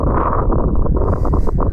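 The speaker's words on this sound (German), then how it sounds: "Es ist gerade extremst windig." Strong wind blows outdoors on the grounds of an abandoned mansion, buffeting the microphone in a steady, loud, low roaring rush that fills the whole stretch with no voices.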